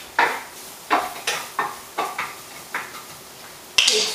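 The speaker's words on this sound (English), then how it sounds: "I am going to stir my onions quickly." Onions are stirred in a pan in a series of about seven quick, regular scraping strokes, each a short swish of utensil over the pan with a faint sizzle between, ending in a louder clank.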